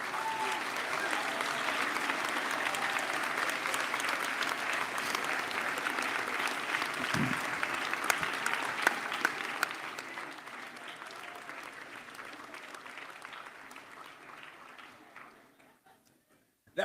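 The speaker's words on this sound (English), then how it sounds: "give them a huge cheer and a round of applause" A large graduation audience claps and cheers at the BNU ceremony, a full sustained roar of applause that holds steady, then thins and fades out toward the end.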